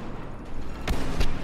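Blaster fire in the video game Star Wars Battlefront, two sharp shots about a third of a second apart over a busy rumbling battle background.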